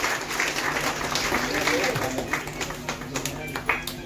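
An indoor audience claps at an award event for blind students, giving a dense, sustained patter of applause at moderate volume, with a voice speaking over it.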